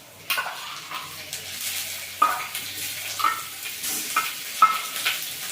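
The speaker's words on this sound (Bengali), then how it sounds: "এবারে চিংড়ি মাছটা দিয়ে দিচ্ছি।" Shrimp frying with lightly browned onions in a pan give a steady close sizzle, marked by a few sharp clinks and scrapes of a stirring utensil.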